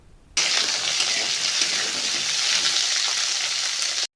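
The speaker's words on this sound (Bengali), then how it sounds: "গাজর, আলু এবং ফুলকপিকে হালকা করে ভেজে নিতে হবে।" Carrots, potatoes and cauliflower fry lightly in a pan, a loud, dense, even hiss of sizzling oil that starts abruptly and holds steady for a few seconds before cutting off.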